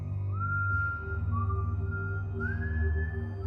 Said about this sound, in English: I was abruptly alerted by a loud and drawn-out whistling sound.